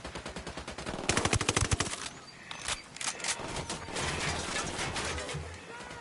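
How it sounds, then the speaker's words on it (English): Video game gunfire: a rapid burst of automatic fire, followed by scattered single shots and mechanical clatter over a dense battle background, with no voices. "I'm opening fire on these shitheads."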